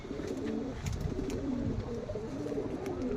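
Pigeons offered for sale coo steadily and close by, with overlapping low, rolling calls that repeat throughout the scene without any talk.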